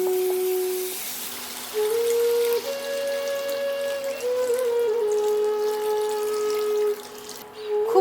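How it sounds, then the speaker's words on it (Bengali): Water pours in a steady stream into a yogurt and spice mixture for doi rui, with a close, continuous splashing and ringing tone that shifts in pitch as the level changes, and no talking. "এবার এর মধ্যে একটু জল দিয়ে দেবো"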